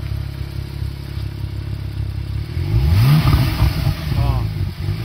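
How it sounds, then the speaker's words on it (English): Porsche 911 Turbo S exhaust: a steady low idle rises into a loud, near rev at about the midpoint, with the engine note sweeping up and falling back in a couple of throttle blips. "Let's have a little listen to that exhaust"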